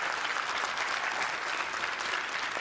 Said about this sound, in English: Let's give them all an incredible round of applause.